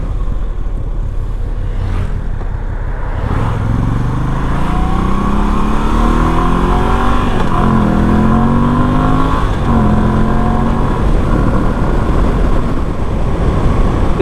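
A Moto Guzzi V85TT motorcycle rides through traffic, its engine droning steadily and loud with rising and falling revs as it accelerates, under constant wind rush.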